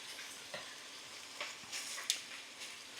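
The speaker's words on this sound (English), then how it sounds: "saute, break up the chunks of onion so that they're individual pieces and that they get a chance to get sauteed on the hot skillet" Chopped onions sauté on a hot skillet with ground beef: a soft steady hiss with light scraping and stirring sounds, one sharp clink near the end, no talking.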